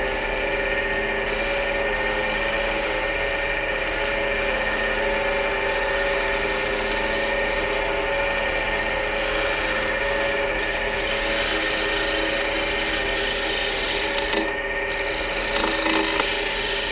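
Abrasive sanding on a spinning walnut vase on a wood lathe, a steady dense rasping hiss over the hum of the lathe motor, continuous and close throughout with no talk.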